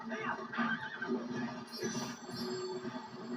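A horse whinnies and gallops in Zelda: Twilight Princess, the neighing mixed with game sounds and a rumbling, train-like background, all fairly quiet.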